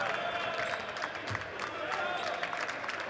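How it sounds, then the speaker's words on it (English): Basketball teammates applaud in an arena during a Champions League game, a continuous patter of clapping mixed with crowd noise and a commentator talking over it. "Akiazli really hears the applause from his teammates as he goes over"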